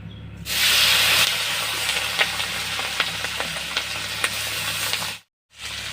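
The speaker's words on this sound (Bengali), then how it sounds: "মশলা ভাজা হয়ে গেছে, আমি এখন মাছ দিয়ে দেবো।" A loud burst of hot-oil sizzling as small puti and mourola fish go into the pan with fried spices, a steady close hiss with small pops, briefly cutting out near the end.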